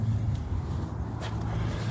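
A 2013 Ford Mustang running with its exhaust rumbling, a deep, throaty low drone held steady and close throughout a short stretch.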